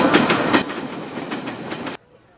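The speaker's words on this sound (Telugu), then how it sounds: "వెనక ట్రైన్ పాస్ అయ్యే సౌండ్ వచ్చింది" A train passes nearby, heard during a phone call, with a steady clickety-clack of wheels over rail joints. The rumble stays loud and even, then cuts off abruptly near the end.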